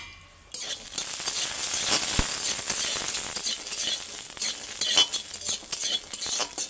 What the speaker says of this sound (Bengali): প্রথমে আমি বড়ি ভেজে নেবো।